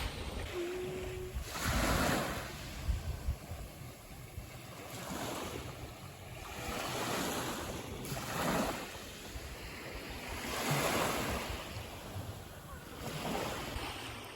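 Ocean waves washing onto a beach in Bali on an afternoon walk, a steady surf wash that swells and recedes every few seconds, with wind noise buffeting the microphone throughout and no one speaking.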